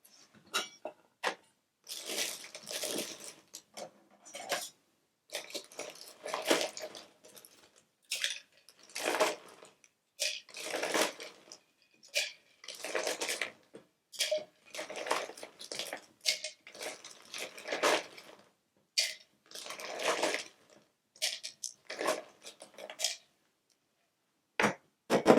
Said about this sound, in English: So we need some ice.